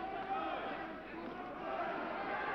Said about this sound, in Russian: слышно даже, как скандируют болельщики